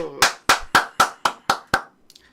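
Seven sharp hand claps in a quick, even rhythm, close and loud, sounding like one person clapping during a live stock-market broadcast, ending with a few faint trailing ticks.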